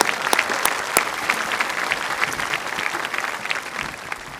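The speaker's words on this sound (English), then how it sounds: "get a round of applause for the weather for the first time this school year" Sustained applause from a graduation crowd at a high school ceremony: dense, steady clapping from many hands, fairly loud and continuous, with no speech over it.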